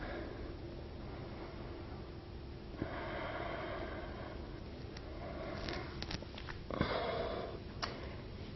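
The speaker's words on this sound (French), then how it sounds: "Un temps d'inspire, 2 temps d'expire." Slow, soft breaths drawn in and let out at a relaxed pace, a few audible inhales and longer exhales, faint and close against a quiet background.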